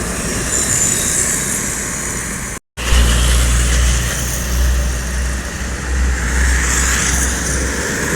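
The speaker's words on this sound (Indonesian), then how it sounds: "Medium bus ya, pariwisata." A medium tourist bus drives past on a road, its loud engine drone and rolling tyre rumble sweeping by close at hand after a brief cut, with no voices.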